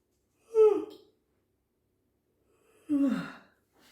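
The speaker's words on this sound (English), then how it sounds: "As I'm about to yawn." A person yawns close to the microphone, making two drawn-out, breathy vocal exhalations separated by about two seconds of silence.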